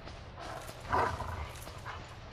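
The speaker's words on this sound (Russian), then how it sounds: "И просто бежим подальше от Собакина, пока он выть не начал" A dog-like creature in the Dark Souls 3 video game gives one brief, faint yelp or whimper over a steady background of game ambience.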